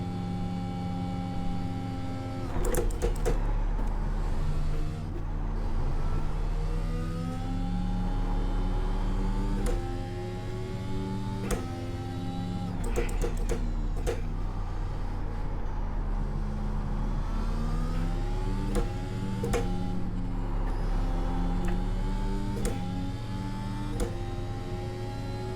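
A Formula 1 car engine racing at Spa-Francorchamps in a video game: a continuous high-pitched engine whine rises and falls through gear changes, with several sharp upshifts and a steady drone running the whole way.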